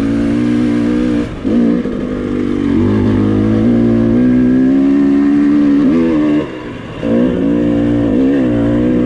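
A 2019 KTM 300 XCW TPI two-stroke dirt bike rides single track in Idaho. Its engine drones loud and close throughout, rising and dropping in pitch as the throttle opens and briefly closes twice.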